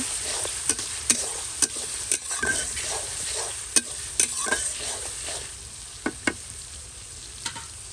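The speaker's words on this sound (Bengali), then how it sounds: "এখানে পেঁয়াজ আর হচ্ছে দারচিনি এলাচ দিয়ে দিচ্ছি এটাকে আগে ভালো করে" Onions with cinnamon and cardamom fry in oil for mutton curry. A steady hiss runs throughout, punctuated by sharp, regular taps and scrapes of a stirring spoon on the pan, close up and without talk.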